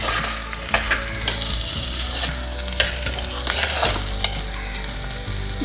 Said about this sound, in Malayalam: ഇനി അരിഞ്ഞു വെച്ചിരിക്കുന്ന പാവയ്ക്ക ഇതിലേക്ക് ഇട്ട് കൊടുക്കാം